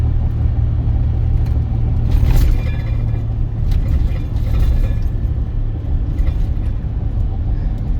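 A pickup truck cruises on cruise control during a descent, a steady low engine and road rumble inside the cab with a few brief rattles and creaks, no voices.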